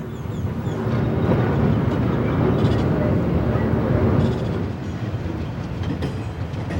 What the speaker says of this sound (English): Drivers steer clear of the train